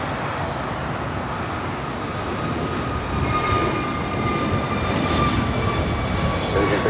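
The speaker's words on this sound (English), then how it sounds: "2833 taking off to Dallas Fort Worth on the A321neo" An American Airlines Airbus A321neo takes off, a steady broadband jet roar that builds slightly and holds, heard from a distance with a faint whine above it.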